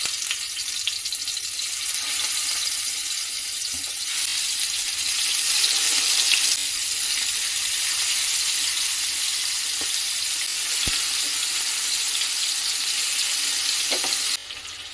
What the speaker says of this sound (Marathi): आपण जे मॅरिनेट करून चिकन ठेवलं होतं पॅन मध्ये घालून फ्राय करून घ्यायचं आहे